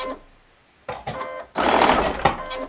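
A sewing machine stitching quilt fabric for a flowing-river wall quilt, running in short bursts, with a brief burst, a pause, then a longer, louder run, close up.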